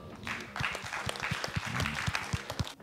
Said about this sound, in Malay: Tepukan untuk diorang.